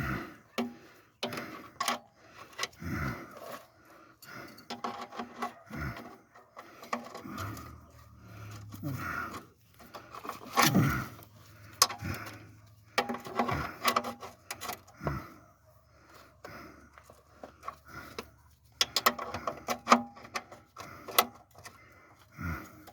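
Wrench ratcheting and tightening on a 1965 Plymouth Barracuda during an oil change, with scattered metallic clicks and scraping taps at close range, irregular and moderately quiet, with occasional low rumbles in the background.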